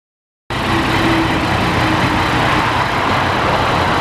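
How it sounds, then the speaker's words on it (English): A 2020 Yamaha MT-09 motorcycle with a quiet stock exhaust rides along, giving a steady, moderate engine drone mixed with wind rush, heard close and continuous after a brief silent start. "I love that quiet exhaust system. It's geared to make a lot of low-end torque and not a lot of noise."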